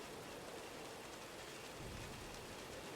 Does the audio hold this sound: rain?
yes